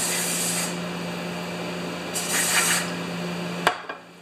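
Spray cleaner rinses a carburetor part from a John Deere TRS 24 snowblower, a steady close hiss with a couple of stronger bursts that cuts off with a small click at the end.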